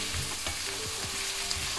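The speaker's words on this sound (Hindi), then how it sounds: "अब प्याज को हमें पूरा गोल्डन ब्राउन कर लेना है, फिर उसके बाद ही इसमें मसाले पड़ेंगे।" Chopped onions with added salt frying in a hot pan, a steady close sizzle with faint stirring scrapes and no voices.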